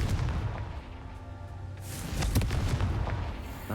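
A fiery Confringo spell explodes in Hogwarts Legacy, a low rumbling blast that swells after a moment, with crackling bursts and booming debris in the game's combat soundscape.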